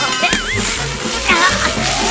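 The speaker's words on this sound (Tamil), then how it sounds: "பைப்ல வர வேண்டிய தண்ணி கனெக்ஷன் கட் ஆகி வேற வழியா வந்துகிட்டு இருக்குது" Water gushes and splashes from a cut pipe connection, a continuous sloshing spray with voices talking loudly over it.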